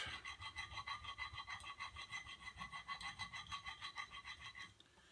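A swivel knife blade is stroked across an 8000 grit sharpening stone, giving a steady run of soft, rhythmic rasping passes, close and quiet, with no voice.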